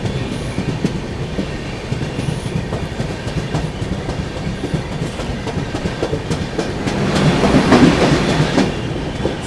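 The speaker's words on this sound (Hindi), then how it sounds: "ये गई दोस्तों आप लोगों की आंध्र प्रदेश एक्सप्रेस।" The Andhra Pradesh Express passes near Ajni railway station, its wheels clattering rhythmically over rail joints in a loud, close, continuous rumble that builds toward the end, with no voices.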